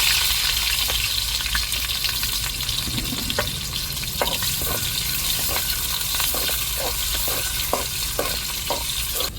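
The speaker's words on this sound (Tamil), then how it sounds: "வெங்காயம் சேர்த்துக்கிடுவோம்" Onions sizzle steadily in hot oil for a dried fish curry, with occasional stirring clicks over the continuous frying hiss.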